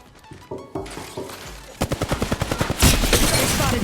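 Rapid automatic gunfire from Apex Legends Mobile, starting with a few scattered shots and building into a fast, loud, evenly spaced burst that swells into a dense, continuous volley near the end.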